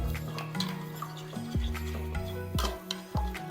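A spoon scrapes and clinks around a bowl while mixing a marinade batter for beef steak, giving several quick, close knocks and swishes in an uneven rhythm, no talking.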